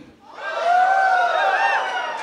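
A concert audience at a show at Cornerstone swells into loud cheering and whooping, holding strong for about two seconds before easing slightly.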